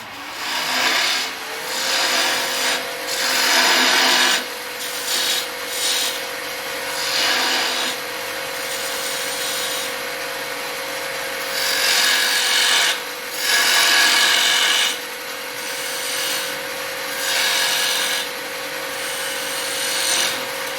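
Wood being cut on a lathe at a woodturners' club demonstration, a continuous rasping scrape with a steady tone from the spinning workpiece, surging louder and softer as the tool bites in, close and without talk.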